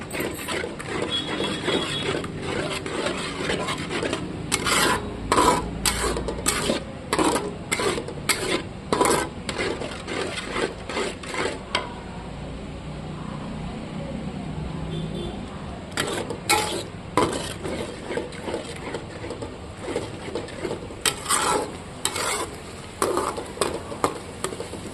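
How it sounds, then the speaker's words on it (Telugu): Tomato rice mixture with curd being stirred in a pan over a low flame, a steady scraping stir with soft sizzling and bursts of clattering utensil strokes that pause midway, with no talk. "సిమ్లోనే పెట్టుకొని కలుపుకోవాలి"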